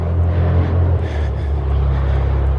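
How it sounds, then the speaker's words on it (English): Distant road traffic rolls as a steady, low rumble from a high-elevation hiking trail near Fehr Lake at about 10,000 feet, continuous and unbroken with no distinct passing vehicles. "We won't be listening to that traffic for too long"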